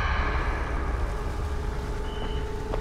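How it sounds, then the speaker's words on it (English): A wristwatch in the zombie game Dying Light beeps as night falls, a thin tone sounding over a loud, steady low rumble. "I'm assuming that beeping right there was my watch telling me, hey, night is coming."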